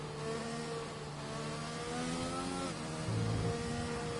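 An F1 race car on the Belgium circuit in a racing game, engine revving hard and climbing through the gears under acceleration, loud and continuous with brief pitch drops at shifts and no talk.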